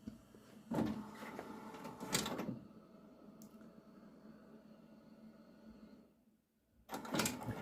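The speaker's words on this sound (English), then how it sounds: "It automatically checks for each cartridge, making sure it's in correctly, and initializes those cartridges so we can get printing." Label printer checking and initializing its freshly installed ink cartridges: a few mechanical whirring and clunking bursts separated by quieter motor hum and pauses, close by, with no voices.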